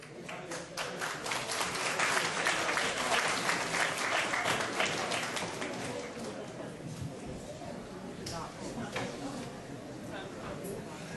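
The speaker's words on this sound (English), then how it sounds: "Let's give Mr. Butler another round of applause." Sustained audience applause at an awards ceremony, a steady wash of many hands clapping that swells early and slowly tapers, continuing for about eleven seconds with faint chatter beneath.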